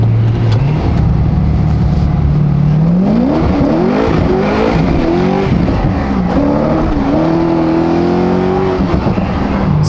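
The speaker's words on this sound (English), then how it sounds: "As you can hear, the Corvette does not sound the same as before." A Corvette engine with a new exhaust idles deeply, then revs repeatedly, its pitch climbing and dropping, loud and close with a rumbling exhaust.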